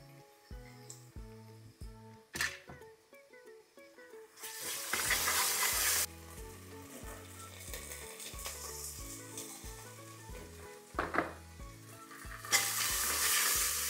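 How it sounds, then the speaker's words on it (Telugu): Onions and ginger-garlic paste sizzle and fry in a pan while being stirred, a steady close hiss that swells in bursts, heard beneath continuous background music. "ఉల్లిపాయలు మంచి కలర్ వచ్చే వరకు చిన్న మంటలో పెట్టి వేగనివ్వాలి"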